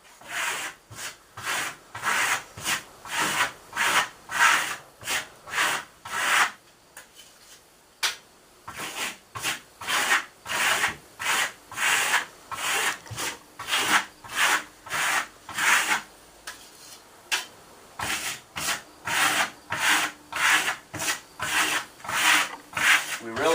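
A steel trowel works a thin Primo Classic Marmorino plaster finish coat across a wall in rhythmic, regular scraping strokes, each a short rasping swipe, with two brief pauses and no talk.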